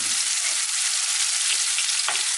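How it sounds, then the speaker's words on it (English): Onions fry in a frying pan for an oxtail stew, a loud dense continuous sizzle close up that fills the whole moment without talk, with a faint clunk near the end. "the next thing in the frying pan is our onions, as you do in every stew"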